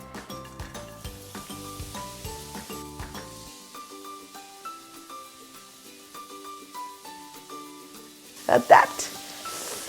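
Roti strips fry in hot oil with a soft crackling sizzle beneath steady tonal background music, and the frying rises into a brief louder burst of spatter near the end.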